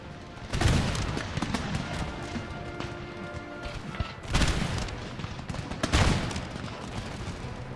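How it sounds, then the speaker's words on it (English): Musket volleys from lines of infantry in an Empire Total War battle at Naples, several crackling salvos heard at a distance over a constant battlefield din, each volley a dense ragged burst of many shots. "we're going to let second line open up fire upon them"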